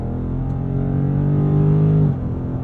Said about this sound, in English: the torque converter automatic has no problem downshifting at a moment's notice